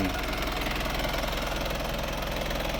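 An Isuzu Dragon diesel pickup engine, circa 2000, idles with a steady, rough knocking rumble, continuous and close, with no other sounds standing out.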